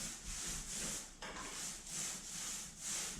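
Paint roller rolling primer across drywall during a repair, a soft rhythmic rubbing swish repeating back and forth in even strokes, close and quiet, no voices.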